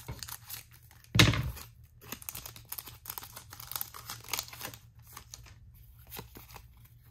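A Pokémon card booster pack wrapper is torn open with one sharp, loud rip, followed by soft crinkling and rustling of foil and cards being handled close by.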